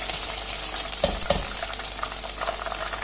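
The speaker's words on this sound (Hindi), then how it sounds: "ये क्रिस्पी होने तक इसको हम इसी में सेकेंगे" Thin banana slices frying in hot oil in a kadhai over high flame, a constant loud sizzle with a couple of sharp crackles, no voices.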